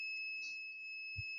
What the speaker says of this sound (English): another beep.